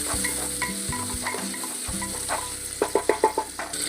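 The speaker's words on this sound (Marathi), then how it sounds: "आता आपण फरसबी आणि गाजरही घालू। त्याला पण आपण तेलावरती थोडंसं चांगलं फ्राय करू।" Green beans and carrots frying in oil with onion and tomato for a vegetable daliya, giving a steady close sizzle broken by a few sharp stirring clinks of a utensil against the pan near the end.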